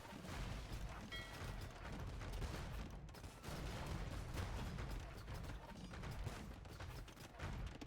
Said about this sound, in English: Bombard cannons working away on the Hussite wagons.